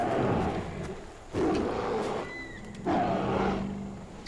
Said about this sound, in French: C'est quoi ces deux ours qui s'affrontent ou...